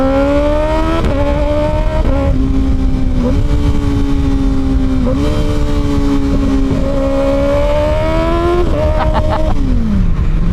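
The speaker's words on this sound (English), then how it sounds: "So that's me doing the blips on the downshift" A Kawasaki Ninja ZX6R 636 middleweight motorcycle's exhaust drones loud and close while riding, its pitch rising and falling through repeated throttle blips on downshifts, with sharp rev spikes near the end before settling lower.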